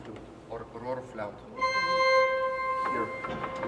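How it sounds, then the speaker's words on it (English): A chimney flute, also called a rohr flute, stop on Lithuania's largest pipe organ sounds a soft, steady sustained tone from about 1.6 s, after a stretch of speech and with a brief vocal overlap later. "So here is the sound of chimney flute or roar flute."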